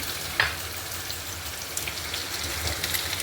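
Spiny gourd and onions fry in a pan with an even, moderately loud crackling sizzle up close, one sharp clink near the start, and no speech.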